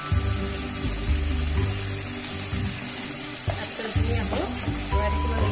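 Fish masala curry with tomato paste and salt sizzles steadily in a pan while being stirred, with a continuous close frying hiss and occasional scraping strokes of the spoon.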